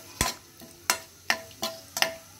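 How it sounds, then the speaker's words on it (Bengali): Bay leaf, cinnamon and cardamom dropped into hot oil give five sharp, separate crackling bursts about half a second apart, close and fairly loud against quiet. "প্রথমে আমি তেল গরম হয়ে গেলে তেজপাতা, দারুচিনি, এলাচ, শুকনো মশলাগুলো একটু ভেজে নেব।"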